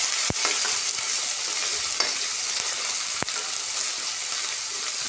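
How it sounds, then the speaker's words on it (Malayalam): Green chilies, tomato and curry leaves sauté in a hot pan, a steady close sizzle running throughout with a few sharp utensil knocks against the pan. "അതിന് ശേഷം നമുക്ക് ആ 2 പച്ചമുളകും തക്കാളി കറിവേപ്പില ഇട്ട് കൊടുക്കാം. ഒന്ന് വഴറ്റി കൊടുക്കാം."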